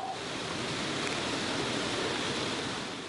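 Waterfall pouring down a volcanic mountainside in forest, a steady, dense broadband rush of falling water with no breaks, fairly close and continuous throughout.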